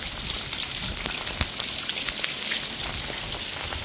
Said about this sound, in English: So in the middle of doing this, it started to hail and snow